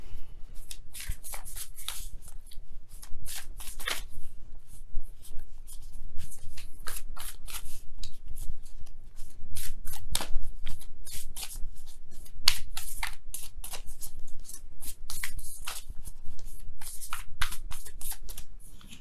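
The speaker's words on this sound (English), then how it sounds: "let me go ahead and really shuffle." A deck of tarot cards is shuffled continuously for nearly twenty seconds, with dense riffling and snapping flurries of cards close up and no voices.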